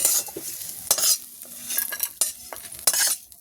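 Fried spices, reddened onion, cashews and garlic being stirred in a pan, metal utensil scraping and clinking in uneven strokes over a light sizzle, close and clear, with no talking.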